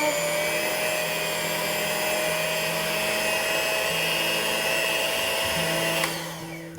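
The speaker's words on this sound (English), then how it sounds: "now we'll try to mix this until every single lump is gone" An electric hand mixer beats thick cupcake batter until smooth, a steady high motor whine holding for about six seconds before winding down near the end, with no talking.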